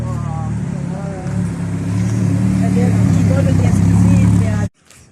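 A Ferrari Roma sports car passes on a street in Spa, its engine a steady, building drone that swells loudly for a few seconds and then cuts off abruptly.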